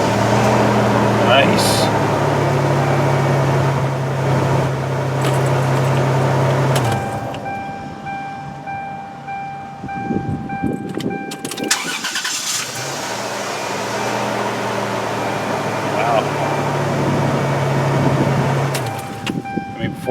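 A 1999 Toyota Tacoma truck, which had only clicked before its battery terminals were cleaned, starts and runs with a low, steady engine drone that briefly drops away midway before resuming, and a short spoken remark is heard.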